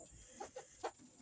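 Several chickens give a few soft, brief clucks while being moved to a new breeding area; the calls are faint and spaced out over a steady background hum.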